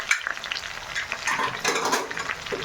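Chicken cooking in a pan with a large chopped tomato just added, a close sizzle and bubbling with spatula stirs scraping through it, moderately loud and with no talking.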